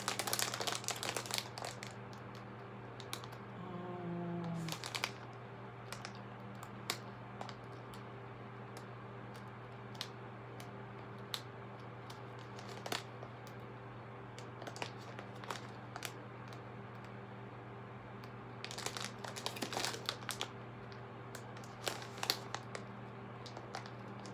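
A plastic mail package is handled during unpacking, giving faint, sporadic crinkles and crackles in short bursts against a quiet room hum, with no talking.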